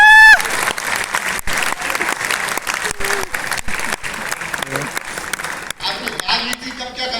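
Sustained audience applause at a kavi sammelan poetry recital in Rohtak, a dense wash of clapping that fills the whole stretch at steady loudness with a voice heard briefly at the start.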